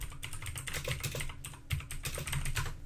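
Fingers tapping out a message on a computer keyboard, a fast, uneven patter of close keystrokes with brief pauses between bursts.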